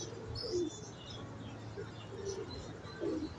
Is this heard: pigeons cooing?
yes